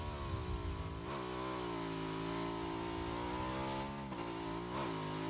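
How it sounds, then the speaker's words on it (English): A motorcycle engine in a video game approaches from behind with a sustained, rising and falling revving drone, fairly loud, with slight pitch shifts as it closes in. "We hear this motorcycle coming up behind us."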